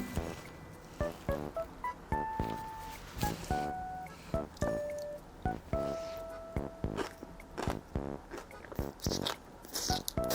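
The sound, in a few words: biting and chewing cashew cream pasta with celery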